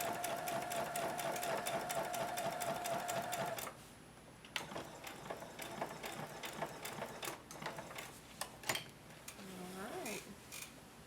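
A home sewing machine stitches a homemade protective mask in a steady, fast whir for a few seconds, then stops, followed by intermittent clicks and handling noises nearby.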